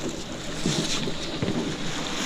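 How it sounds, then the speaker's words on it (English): A racing sailboat gathering speed in strong wind during a quarter-final race, heard as a steady loud rush of wind buffeting the microphone and water noise along the hull, continuous with no talk. "We see the boat accelerating right there"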